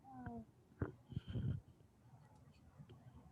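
A person mimics a cat with a few short, nasal meow-like calls in a quiet room, a pitched cry at the start followed by a couple of louder bursts, then faint murmuring afterwards.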